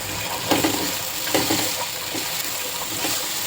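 Finely chopped small tomato and potato go into a pan for Malvani-style kaala chana usal and simmer under steam, giving a steady soft sizzle. A few stirring scrapes and clinks stand out.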